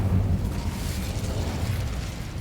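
Incendio, a fire spell in a Hogwarts video game, roars out as a dense, rumbling burst of flame that stays loud and steady for a couple of seconds.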